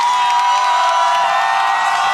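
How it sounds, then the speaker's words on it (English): A crowd at a college gymnastics meet roars and cheers continuously after a bar routine, a dense, loud wall of shouting and whooping that holds steady throughout. "The crowd goes wild."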